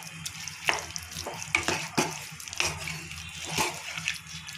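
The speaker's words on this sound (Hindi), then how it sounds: "बाकी छोले इसमें मिक्स कर देंगे और अच्छे से मिक्स कर देंगे सबको।" Chickpea curry (chole) with mashed chickpeas mixed in is stirred in a pan, giving a quiet, wet, squelching run of uneven spoon strokes with faint sizzle, close and without voices.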